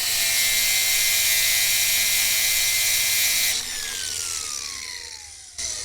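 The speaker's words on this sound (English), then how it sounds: "So I'll sand it down, and then I can spin the nut off," Abrasive sanding on a bolt thread spinning in a metal lathe, a loud steady hiss and whir that holds for several seconds, then eases slightly with a falling whine as the machine winds down.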